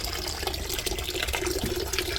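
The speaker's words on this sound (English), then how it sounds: "the water levels a little high, so I'm going to keep draining water" Water drains from a steam boiler in a continuous rushing, splashing flow, steady and close throughout with no talking.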